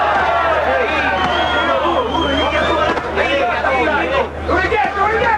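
A capacity boxing-arena crowd in Saint-Tropez at the Evander Holyfield versus Ossie Ocasio fight keeps up a constant murmuring hubbub of many voices, fairly subdued, with nearby speech rising and falling over it.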